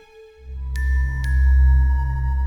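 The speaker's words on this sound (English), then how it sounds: "Looks like a bell." A cartoon bell rings out in sustained tones, with two bright strikes that layer ringing overtones over a deep swelling hum.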